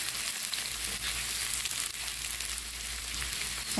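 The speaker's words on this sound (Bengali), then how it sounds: "পেঁয়াজটা বাদামি করে ভেজে নেব।" Chopped onion and garlic frying in oil until brown, an even, close sizzle with a low rumble and soft stirring throughout, no talking.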